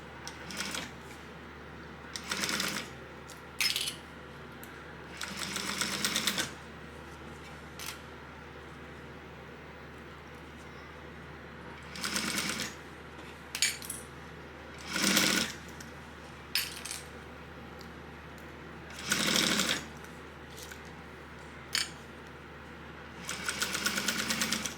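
A sewing machine basting stitches about an eighth of an inch from a fabric edge runs in short, loud bursts separated by pauses, with no talking.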